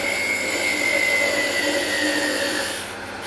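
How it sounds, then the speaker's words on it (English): A wood lathe parts off a small turned snowman ornament: a steady, loud whine with a sustained high tone and broadband cutting hiss, easing slightly near the end. "The only thing we have left to do on the lathe is part this little guy off."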